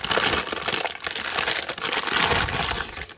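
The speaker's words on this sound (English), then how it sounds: "Crumple, crumple." Packaging crumpled and crushed by hand while unboxing an EVGA RTX 3090 Ti FTW3 graphics card: a dense, continuous crackling and crinkling, close and fairly loud, with no talk.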